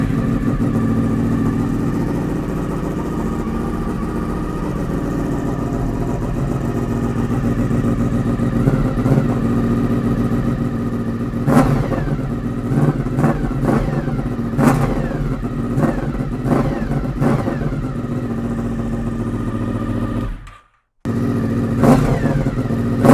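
A Honda VFR motorcycle with the Delkevic silencer baffle removed, idling loud and close with a throaty rumble, then several sharp revs rising and falling, a brief cutout, and the engine picking back up, with no talk.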